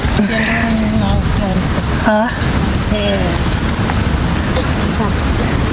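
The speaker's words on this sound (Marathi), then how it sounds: "पाऊस पडायला लागलंय आणि याचा आनंद वेगळंच आहे" Steady rain falls outdoors on open farmland, a dense continuous hiss of drops on surfaces with some wind, while people talk over it throughout.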